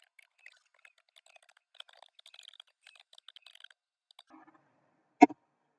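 Light keystrokes on a computer keyboard tap out a command in short irregular bursts, faint and close, ending in one louder key press, with no voices.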